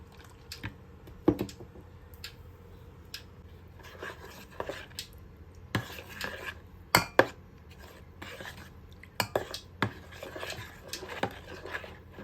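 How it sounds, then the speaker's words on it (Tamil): Gram flour, yogurt, turmeric and salt mixed in a bowl for a Jaffna-style brinjal dish, with scattered close clinks, taps and scrapes of a spoon against the bowl, irregular and fairly quiet, no talk. "இப்போ கடலைமாக ஜோக்கர் தயிர் மஞ்சள் உப்பு போட்டு இதை கரைச்சி கொள்ளுவோம்"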